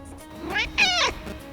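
An airfield cat gives a couple of close, clear meows, a short one followed by a longer drawn-out cry, over quiet background hum.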